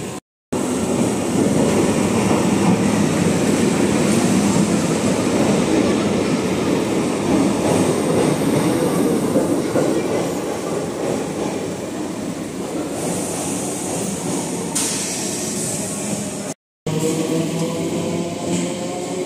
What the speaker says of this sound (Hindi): एक ट्रेन आ रही है, लोकल है, देखते हैं कौन सी ट्रेन है।